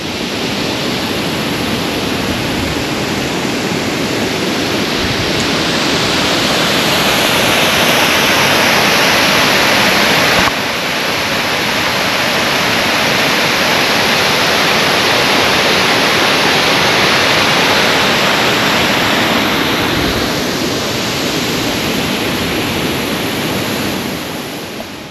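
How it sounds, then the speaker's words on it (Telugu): Chunchi Falls near Bangalore pours in a dense, constant rushing roar of falling water, loud and unbroken throughout, with no voices. "ఇదేండి వాటర్ ఫాల్స్ దగ్గర నుంచి"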